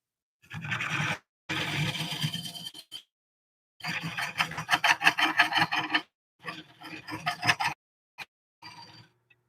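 A lathe gouge cuts a spinning cork oak bowl, producing harsh, rasping scrapes in several bursts of one to two seconds each, separated by abrupt silences. The cuts are close and fairly loud.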